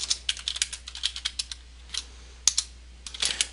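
Fingers type an email reply on a computer keyboard, a close, quick patter of irregular key clicks in short bursts with brief pauses between words, alone in a quiet room.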